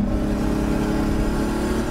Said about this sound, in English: So that's making the noise while you're accelerating. Yes, that's called open throttle compressor surge.